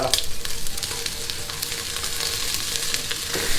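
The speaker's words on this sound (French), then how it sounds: "on va ensuite bien faire dorer tous nos morceaux un par un" Pieces of veal shank brown in hot oil in a pan, a steady close sizzle and crackle with occasional sharper spits and pops, no voices heard.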